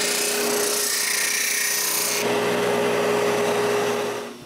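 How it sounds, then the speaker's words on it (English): Sanding a wooden piece of a puzzle box down to thickness, a steady close abrasive rasping that holds continuously at a loud level before trailing off at the end. "I sand it up until it has the right thickness."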